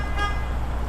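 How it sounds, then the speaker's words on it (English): A truck's city horn gives one steady honk during a pre-trip inspection, heard close and continuous over a low engine idle. "After that, I would like to check my city horn"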